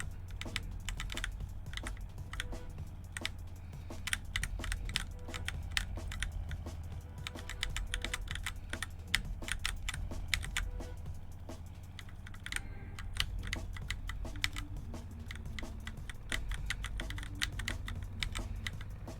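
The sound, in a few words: computer keyboard keys being pressed while playing a game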